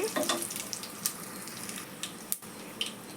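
Cumin seeds fry in oil for moong dal khichdi, a faint, low sizzle broken by scattered small crackles and pops, with no voices.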